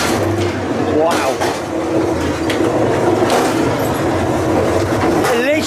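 A ghost train car at Prater amusement park in Vienna rolls steadily along its track with a continuous rumbling clatter, while people talk and react over the ride noise throughout.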